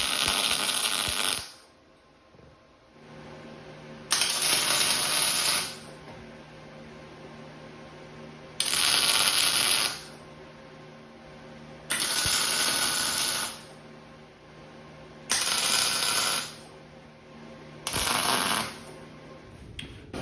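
Tack welding on a steel console table frame of 3/4-inch square stock, six short bursts of harsh, crackling arc buzz, each a second or two long, separated by quiet gaps, close and loud.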